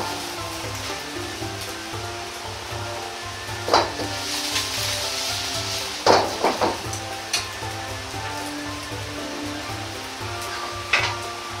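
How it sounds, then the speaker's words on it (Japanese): Yakisoba noodles with chikuwa and bean sprouts fry on low heat in a pan, giving a steady close sizzle with a few louder crackling bursts. "弱火にして片面をしっかりと焼いていきます。"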